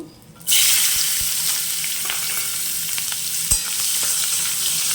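Onions drop into hot oil in a pan just used for frying a fish head, bursting into a loud close sizzle after a short quiet start, with a steady hiss and occasional pops and stirring clicks.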